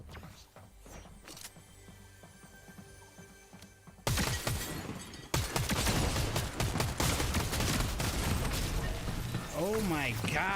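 Rapid gunfire bursts in a battle royale video game, loud, dense and repeated over several seconds amid game effects and chatter, with a person talking throughout.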